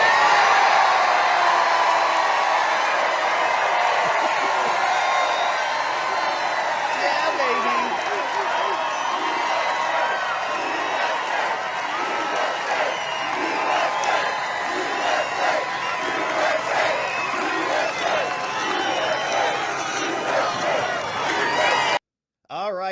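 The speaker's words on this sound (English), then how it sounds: "The crowd goes wild." Crowd at a Trump rally cheering and whooping loudly, with a sustained roar of many voices and scattered clapping that carries on for most of the stretch before cutting off abruptly near the end.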